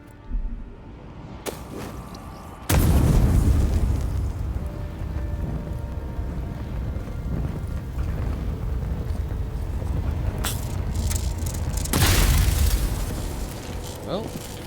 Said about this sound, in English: I think I need a grenade for that part.